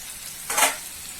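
Potatoes and onions sizzle in a frying pan, with one brief louder burst of crackling sizzle in the middle above a low, steady background hiss.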